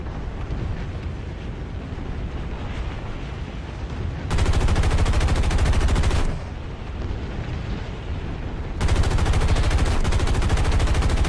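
Aircraft guns firing at an enemy plane in a combat flight video game over Saipan, two sustained bursts of dense rapid fire with a brief pause between, loud and close, over a constant engine drone.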